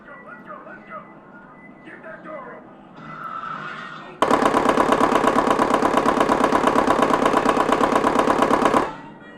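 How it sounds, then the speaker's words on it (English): Rapid-fire gunfire from the House of the Scarlet Dawn shooting game erupts after a voice, a loud, even stream of fast shots lasting several seconds before cutting off abruptly. "So the bullets are on rapid fire at the moment because your clip is full."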